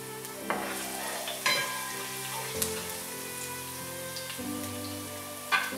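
Garlic fries in a pan that was just used for bitter melon, a steady crackling sizzle with a few sharp clinks of a utensil, heard alone without speech.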